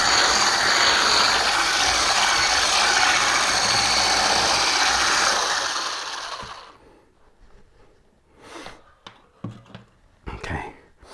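An electric mixer fitted with a whisk attachment beats sugar cookie dough, a loud steady whirring hum for about six seconds that winds down, followed by quieter handling noises.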